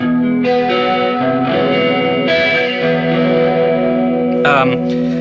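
An electric guitar runs through a compressor, an MXR analog chorus pedal and distortion, playing loud, sustained, shimmering chords and notes with a warbling, echoing tone and a bright scratchy accent near the end.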